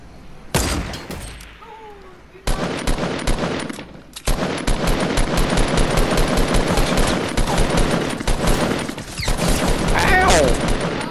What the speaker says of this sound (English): I try to shoot them dudes.